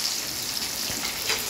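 Onion hitting hot oil in a Bengali home kitchen while cooking chicken kosha, a soft continuous sizzle with small crackling pops, close and quiet.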